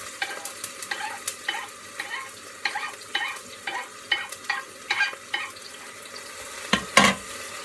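Onion fries in oil in a pan with a continuous close sizzle, broken by regular scraping stirs about every half second and a louder clatter near the end.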